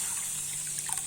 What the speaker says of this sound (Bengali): কাজুর বাটিটা ধুয়ে এই যে 1 বাটি জল দেবো।